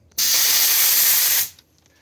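A single steady hiss of spray from a pressurized can, loud and close, lasting just over a second before cutting off, while rebuilding bucket seat foams for a 1970 Dodge Super Bee or Coronet R/T.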